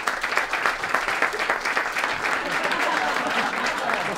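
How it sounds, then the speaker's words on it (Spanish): Sustained audience applause at a stand-up comedy show, dense steady clapping from a crowd with a few faint voices mixed in, moderately loud and continuous throughout. "Un aplauso para él, por favor."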